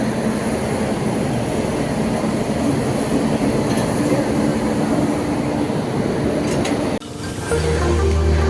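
A passenger train idles at a station while its locomotive is changed, giving a loud, continuous rumble and hum with faint clanks, then a sudden shift to a deeper engine drone near the end.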